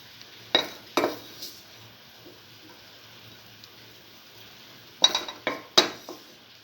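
A spoon scrapes and clinks against a metal pan as fried, puffed-up raisins are lifted out, with two clusters of sharp clatters separated by a quiet stretch of faint background hiss.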